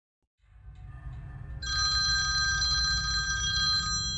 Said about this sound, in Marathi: सकाळी साडेपाचच्या दरम्यान फोन खणाणला